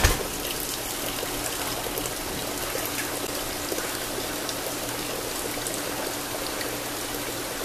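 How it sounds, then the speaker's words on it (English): Water drains steadily out of a hydroponic propagation tray, a continuous close trickling and splashing stream at even volume throughout. "I drain it off till it's almost down to a trickle."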